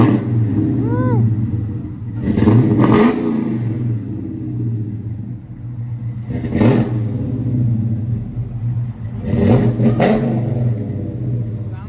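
A cammed Dodge Charger Hellcat with a stage 3 cam, headers and a Flowmaster 40 Series exhaust blips its engine in three loud, close revs, rising and falling over a lumpy idle rumble, with a faint whine from the supercharger.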